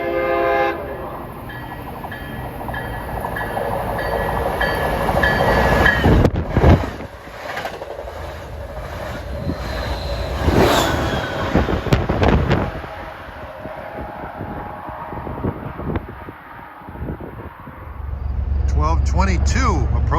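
MBTA commuter train 818, running from Stoughton to Boston, passes through a station without stopping, a loud sustained rumble with sharp bursts and tonal horn-like bands, a voice talking partway through and an announcement-like tone near the end.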